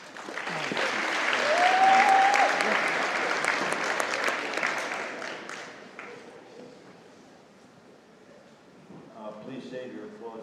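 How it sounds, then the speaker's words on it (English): An audience at a school event applauds, loud sustained clapping that swells and then fades away, with a voice starting to speak as it dies down. "Please save your applause for Calvin."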